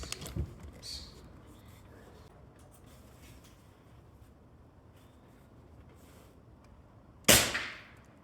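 An Umarex Gauntlet air rifle fires one sharp, close pop near the end, following quieter scattered handling sounds in an otherwise hushed outdoor setting.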